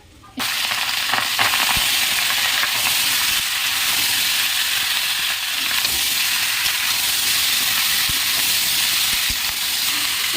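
Turmeric- and salt-coated chicken hits hot oil with whole cumin seeds and sets off a loud, continuous sizzle and hiss. It starts abruptly after a brief quiet moment and runs steady and close for ten seconds.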